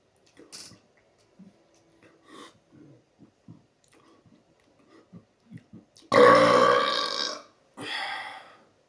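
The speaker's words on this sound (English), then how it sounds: "So I think my burps are going to sound really bassy." A congested person lets out one long, loud, deep bassy burp, followed by a shorter second burp, after quiet breathing and small mouth noises.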